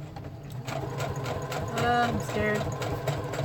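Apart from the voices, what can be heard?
sewing machine stitching leather trunk cover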